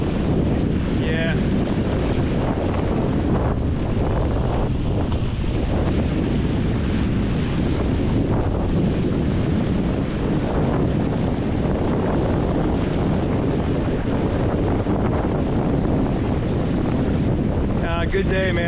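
Strong steady wind roaring across the microphone while sailing a Hobie 16 catamaran on a lake, with water rushing against the hulls throughout and faint rigging sounds.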